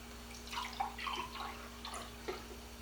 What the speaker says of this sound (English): I'm going to put 3/4 of this Jell-O in my measuring cup.